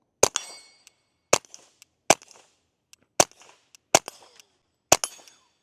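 Six sharp .22 pistol shots from a Ruger MKIV 22/45 Lite, fired one at a time about a second apart. Each loud crack has a brief ringing tail, with no talking between shots.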